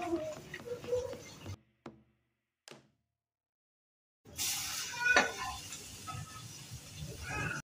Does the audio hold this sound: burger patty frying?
yes